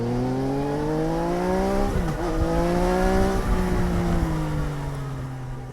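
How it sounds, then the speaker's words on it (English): A Triumph Trident 800 motorcycle engine revs through a few gear changes, pitch rising and dropping in smooth sweeps, loud and close with a steady roar throughout. "let's have a short listen to the engine sound"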